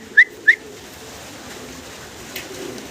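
A pair of red Bombay pigeons at a pigeon farm gives two short, clear coos close by in quick succession, then only a quiet, faint background hum remains.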